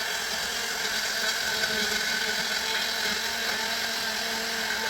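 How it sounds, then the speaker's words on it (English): A blender whirs continuously, steady and fairly loud, pureeing a BIR curry base gravy into a smooth paste, with no talking. "now it's just a case of blending it into a smooth paste"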